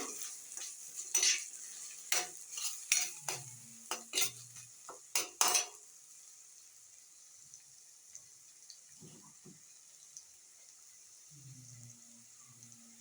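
Spoon scraping and stirring masala with yogurt in a pan with a steady sizzle underneath, several sharp clinks in the first half, then quieter frying.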